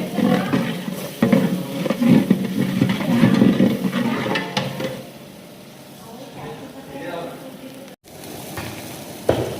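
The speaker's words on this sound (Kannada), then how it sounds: "ಚೆನ್ನಾಗಿ ಬ್ರೌನ್ ಆಗೋ ತನಕ ಫ್ರೈ ಮಾಡ್ತಿದ್ದಾರೆ" Food frying in a pan until browned sizzles steadily while being stirred, with louder bursts early on and people talking over the cooking noise.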